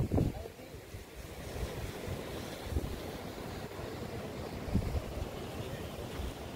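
Kalu Waterfall in the monsoon forest gives a broad, steady rush of falling water and wind-blown spray, with gusts buffeting the microphone and a few low thumps.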